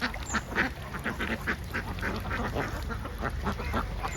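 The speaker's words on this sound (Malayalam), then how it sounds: "ഇവിടെ കുറച്ചധികം താറാവുകളുണ്ട്." Many ducks on a duck farm in Ernakulam, Kerala, quacking in a dense, overlapping chorus of repeated calls, close and lively throughout.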